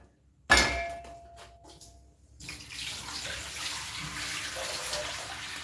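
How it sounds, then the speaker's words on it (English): A dirty metal cooking pot knocked and then rinsed with water, a sharp clink at the start followed by a quiet pause and then a steady splash of running water, close by with no talking. "this pot is dirty, so I'm going to wash it"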